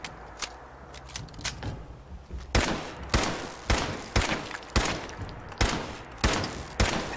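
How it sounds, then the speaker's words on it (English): Enemy gunfire in Fallout 4 rings out as a series of loud, evenly spaced single shots, roughly one every half second, each with a short decaying tail, preceded by lighter scattered pops. "He tried shooting at the very end there to try and kill us."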